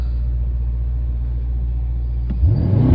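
In a Mercedes E63s a deep, steady engine rumble hums inside the cabin. Near the end the car launches hard and the engine swells into a rising, louder acceleration.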